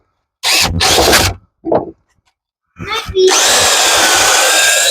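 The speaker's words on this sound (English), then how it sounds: "With a wire brush or something?" A power wire brush scours aluminum corrosion off a wheel bearing hub on a Cadillac DTS during front bearing replacement, two loud bursts of whirring grind, a short buzz, then a sustained scrubbing run near the mic.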